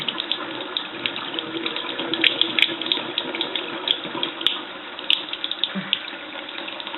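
Warm water pours steadily onto potted orchid plants indoors, a continuous splashing stream running for several seconds with light trickling detail, close and fairly loud.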